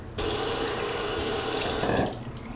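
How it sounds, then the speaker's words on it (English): Tap water runs steadily into the reservoir of a travel water flosser, a close, continuous splashing hiss that starts abruptly and swells briefly near the end before the flow is shut off. "So I'm gonna start by filling this up with water"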